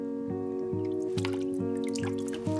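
Water drips from wet clothes in a German children's cartoon, a steady series of plinking drops over a sustained musical backing tone.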